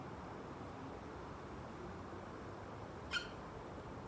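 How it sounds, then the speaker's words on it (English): In a quiet backyard under faint steady background noise, a bird gives a single short, sharp call near the end, at moderate distance. "There's a bird."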